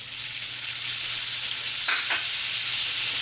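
A stick of butter hits a hot pan holding leftover bacon fat over medium-high heat, giving a steady broadband sizzle with a brief sharper crackle burst partway through, no voices.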